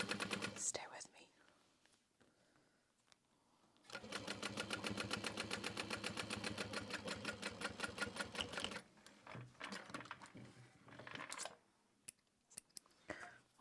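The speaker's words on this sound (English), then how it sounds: "I can hear my bobbin going." Sewing machine stitching a tote bag, a rapid, evenly ticking needle run of nearly five seconds between quieter stretches of handling noise and soft, close talking.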